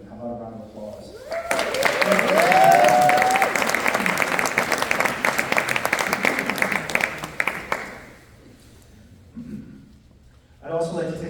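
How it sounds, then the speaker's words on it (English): Audience applause for a women's basketball team at a coach's introduction event, a burst of clapping swelling for several seconds then fading, with talk and whistling-like vocal tones near the start and a voice returning at the end. "how about a round of applause?"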